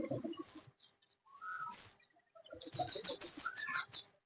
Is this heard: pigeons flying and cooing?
yes